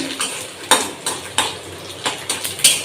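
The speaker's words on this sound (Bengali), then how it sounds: "এই দেখো নারকেল আর বাদাম ভেজে নিচ্ছি" A metal spatula scrapes and clanks against a pan in a quick, uneven rhythm while coconut and peanuts sizzle steadily underneath.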